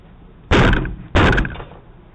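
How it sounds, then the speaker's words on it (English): A man kicks at the front door of a home in Albuquerque, New Mexico, trying to break it down. Two heavy, loud booming thuds land about half a second apart, each followed by a short rattle. "This guy tries to kick someone's door down"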